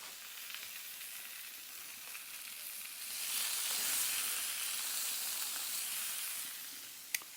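Lamb sizzles in a hot skillet plate over a fire, giving a steady close frying hiss that grows louder midway and then eases, with a sharp tap near the end.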